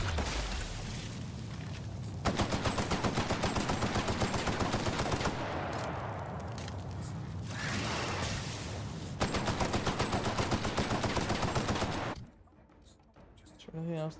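Weapon fire in The Outer Worlds: Spacer's Choice Edition video game, loud rapid automatic bursts in two long stretches separated by a pause, cutting off near the end, with game music and ambience underneath.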